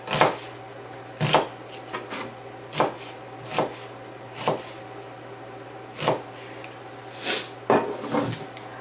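A knife julienne-cutting onions into thin slices, about a dozen sharp chops on a cutting board in an irregular rhythm, close and clear with no talk.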